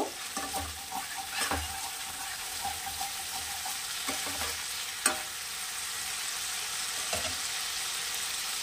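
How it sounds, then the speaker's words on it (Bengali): Ginger paste fries in a pan under a steady sizzle, while a spoon scrapes and stirs it in a series of soft, irregular knocks; there is no speech. "আদাটা একটুখানি নাড়াচাড়া করে নেব, নাড়িয়ে নেব।"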